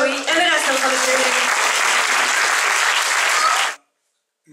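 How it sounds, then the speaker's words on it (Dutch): Loud, sustained audience applause at a youth council election, with a voice speaking over the start, cutting off abruptly into silence. "Een groot applaus voor Joey en de rest van de jury."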